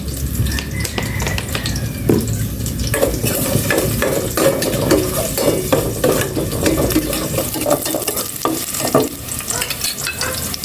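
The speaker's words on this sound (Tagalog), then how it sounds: "Igisa ko na po itong bawang." Garlic sautés in hot cooking oil in a home kitchen, a steady close sizzle with repeated scraping and stirring clatter throughout, plus occasional running-water splashes in the background.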